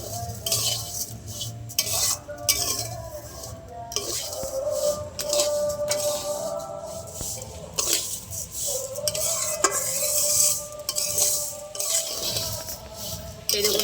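Vermicelli is stirred and fried in a pan over medium heat. A spatula scrapes and clatters against the metal in an uneven rhythm, with a light sizzle running underneath.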